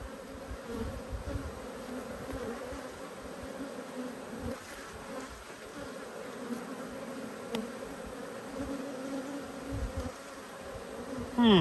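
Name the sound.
honey bees buzzing at an open hive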